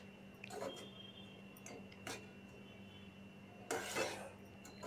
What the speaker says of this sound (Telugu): ఇలా షుగరు, పుట్నాల పప్పు పౌడర్ మొత్తం కలిసేలాగా కలుపుకుందాం.